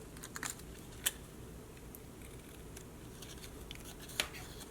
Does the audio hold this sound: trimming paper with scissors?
yes